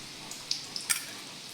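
Garlic frying in oil makes a soft, steady sizzle, fairly faint, with a few brief crackles and pops near the middle. No one talks.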